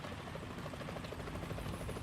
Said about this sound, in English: Is that a chopper I just heard?